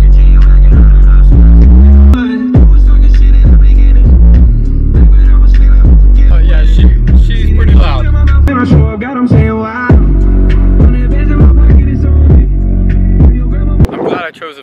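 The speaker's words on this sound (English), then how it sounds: "I can't really portray how the bass sounds exactly through my camera, but I'm gonna give it a shot" A truck's stereo plays Post Malone's "Wow" at very loud volume, with heavy booming bass, throbbing rhythmically and distorting the recording close up, and a short pause partway through.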